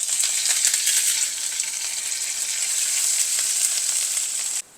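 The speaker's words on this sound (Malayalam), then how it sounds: "കടുക് പൊട്ടാൻ തുടങ്ങുന്നുണ്ടെങ്കിൽ തന്നെ നമുക്ക് ജീരകം ഇടാം അതിലേക്ക് പച്ചമുളക് ഇഞ്ചി ചെറുതായിട്ട് കട്ട് ചെയ്തിടണം കറി ലീഫ് ഇടാം" Mustard seeds splutter and cumin, green chilli, chopped ginger and curry leaves fry in hot oil for a capsicum masala, a steady close, loud sizzle with crackling pops running throughout, alone without voices, then cutting off abruptly at the end.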